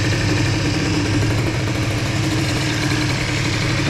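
Small Bidalot RF 50 WR moped engine running on a 20 mm carburettor, heard close up as a loud, steady, buzzing idle with no clear rev or stall, alone without talk.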